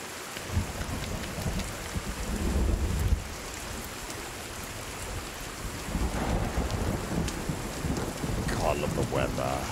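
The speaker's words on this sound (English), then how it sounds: "Yeah, weather's cool. Bit of rain." Steady rain patters in a Sons of the Forest forest scene, a continuous hiss with low rumbling thunder underneath, heard at even volume while players talk quietly.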